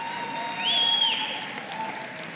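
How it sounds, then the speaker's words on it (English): Audience applause at a Labour Party election campaign launch rally in Battersea, a steady wash of crowd clapping that swells briefly in the middle, with a faint tone and cheers above it. "that deserves a round of applause"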